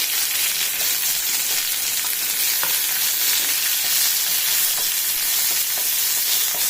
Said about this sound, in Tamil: எல்லாம் நல்லா பொரியட்டும்